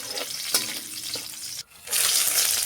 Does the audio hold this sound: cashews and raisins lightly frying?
yes